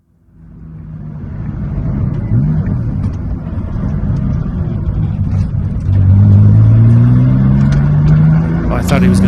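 A car drives along, its engine building from quiet to a strong, steady rumble with rising revs toward the end. Voices talk over the engine.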